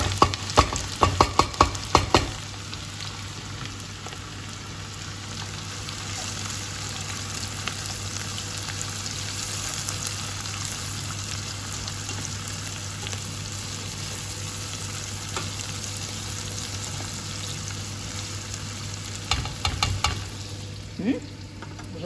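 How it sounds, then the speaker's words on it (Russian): Chopped onion frying in a pan, a steady close sizzle with a low hum underneath, broken by clattering stirs and knocks at the start and near the end. "Дорезаю и обжариваю."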